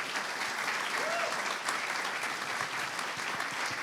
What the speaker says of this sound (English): A round of applause for everyone here,